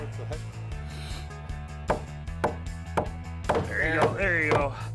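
Several sharp wooden knocks strike at uneven intervals over a steady low hum, with some faint background voices toward the end.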